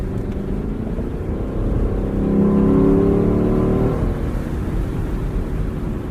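A 2021 Lexus LC 500 Convertible drives along with a steady engine drone that swells for a few seconds as it pulls harder, then settles back to an even cruise, with wind and road noise throughout and no voices.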